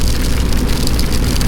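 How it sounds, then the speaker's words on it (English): Heavy torrential rain pelts down hard like tiny bits of hail, striking a rider on a BMW 1250 GS motorcycle. It makes a loud, dense, continuous patter with no voices. "It's almost like tiny bits of hail."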